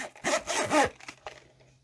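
A big zipper on an EVA hard camera case is pulled in two quick rasping strokes, close and crisp, followed by a shorter scrape and a faint tick as the pull settles.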